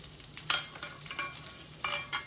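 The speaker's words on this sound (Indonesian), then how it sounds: "Kita cemplungkan bumbu ulekan ala Lek Damis." Hand-ground spice paste stirred in a hot pan, sizzling and frying with several scraping stir strokes in quick succession, close and fairly loud, with no talking.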